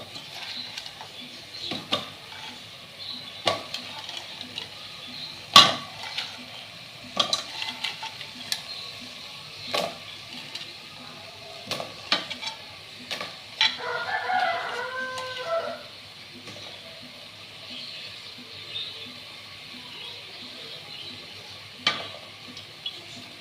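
Crab goes into a pan on low heat to fry and is stirred, a faint sizzle under intermittent scraping and clanking of a utensil, with a rooster clucking briefly in the background.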